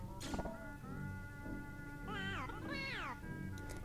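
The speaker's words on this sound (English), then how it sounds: "Hit this trash can here. That's going to bring out the cat." In the video game Pac-Man 2: The New Adventures, two drawn-out cat meows rise and fall, clear and moderately loud, following a short clattering knock on a trash can, with a steady hum underneath.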